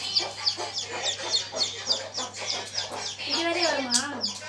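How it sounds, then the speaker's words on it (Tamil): Chickens clucking repeatedly and close by, a busy run of short, rhythmic clucks with a few higher squawks near the end. "வருது வருது கோழி வருது."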